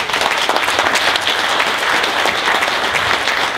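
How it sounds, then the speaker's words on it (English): A conference audience at the 2019 Sebring Corvette Corral breaks into a steady, dense round of applause, with many hands clapping together continuously and no speech over it. "Okay, give yourselves a round of applause."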